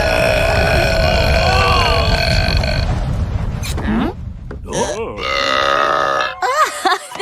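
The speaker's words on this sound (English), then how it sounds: "All of you, stop burping this very instant." Animated cartoon characters let out a series of long, loud, gurgling burps, several in quick succession with pitch sweeps, mixed with brief voiced exclamations.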